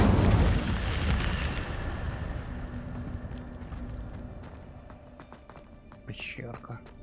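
An Incendio fire spell cast in the video game Hogwarts Legacy, a loud burst of roaring flame that decays slowly over several seconds, followed later by a short, brighter magical flourish.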